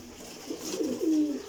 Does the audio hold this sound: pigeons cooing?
yes